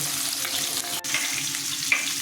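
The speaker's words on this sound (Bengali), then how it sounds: "মাছগুলো ভাজা হয়ে যাবে তার মধ্যে" Constant crackling sizzle of katla fish frying in hot oil, close up, with a few small pops and no talking.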